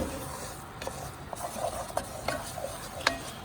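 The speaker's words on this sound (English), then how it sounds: "So as you can see, it's starting to get a little brown. We'll come, give it a little stir." A wooden spoon or whisk stirs a roux browning in a pot for a Cajun meatball stew, giving soft scraping strokes every half second or so over a faint, steady sizzle, close and fairly quiet with no talking.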